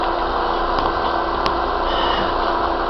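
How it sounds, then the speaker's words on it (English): Steady drone of a New Holland T9700 articulated tractor on ATI tracks chisel plowing wheat stubble, heard from inside the cab, loud and constant with a faint periodic rattle and no talking. "As of right now, I'm just sitting here chisel plowing,"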